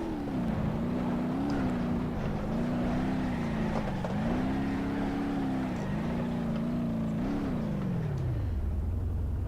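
A '54 Burnside inline six-cylinder car engine in BeamNG.drive drones loudly and continuously in second gear, its pitch climbing and dipping in repeated surges before settling to a low idle near the end.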